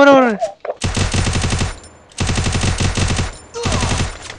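Automatic weapons fire in a shooting video game comes in three long, loud, rapid bursts separated by short pauses, after a brief voice at the start.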